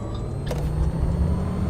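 An electric 2024 IC CE school bus drives in the Rigs of Rods video game, giving a low, steady rumble with a faint hum and a brief higher whine near the start, with no voices.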